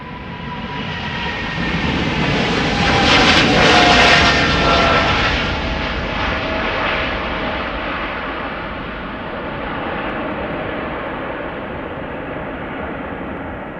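A KLM Boeing 777-300ER departs Amsterdam Schiphol, its jet engines building to a loud, hissing roar that peaks early as it passes close by, then recedes into a fading, lower rumble.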